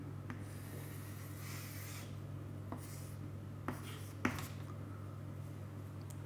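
A diagram is drawn by hand during an engineering lecture on stress and force, with soft scratchy writing strokes and a few sharper taps over a steady low electrical hum.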